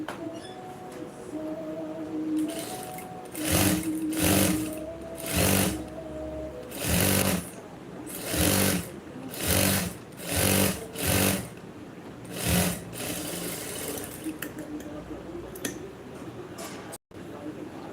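A sewing machine stitches invisible piping onto a blouse in repeated short bursts of rapid mechanical clatter, separated by brief pauses over a steady background hum, heard close up.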